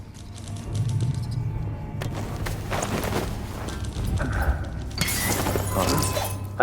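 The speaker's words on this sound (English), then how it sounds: "That sounded like broken glass." Glass shattering in the Dishonored video game, several sharp crashing bursts with tinkling fragments over clattering footsteps-like knocks and a low hum, the loudest smash arriving near the end.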